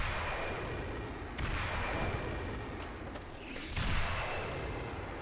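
Repeated explosions in Dark Souls Remastered during the Four Kings fight, a series of rumbling booms and bursts rolling over a constant low roar, with a heavier blast toward the end.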